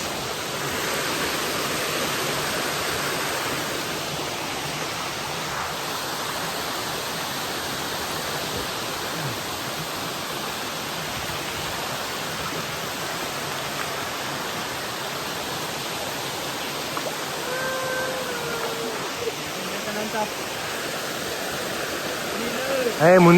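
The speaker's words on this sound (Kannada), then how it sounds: "mini water falls" A small waterfall in Kerala, a continuous broadband rush of falling water close by, steady throughout with faint voices and movement near the end.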